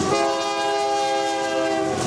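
A freight train passes close by at the Rochelle railroad park, its horn blaring in a loud sustained chord over the steady rumble and rattle of the cars.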